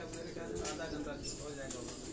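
Breeder pigeons coo softly in cages on a rooftop in Karachi, a low continuous murmur with someone talking over it.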